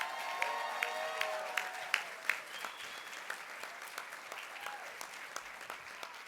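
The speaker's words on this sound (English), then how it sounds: "Please welcome her with a very loud and warm applause." A room applauds to welcome the President and CEO of the Bay County Economic Alliance at a business gathering. Soft, fairly distant clapping runs steadily under a few sharper individual claps, with faint murmuring and whoops.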